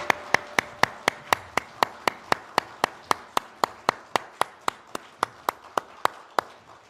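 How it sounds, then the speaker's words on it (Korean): A congregation at a Sunday church service claps in a steady, even rhythm of about twenty sharp, unison claps, close and distinct, with no talking. "영광의 박수 올려드리겠습니다"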